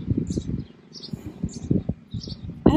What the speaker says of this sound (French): Il y a un arbre là avec plein d'oiseaux.